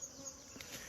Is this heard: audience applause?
no